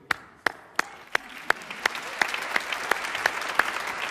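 An audience applauding after a Quran recitation: rhythmic, evenly spaced claps about three per second, sharp and close, swelling gradually into fuller crowd clapping.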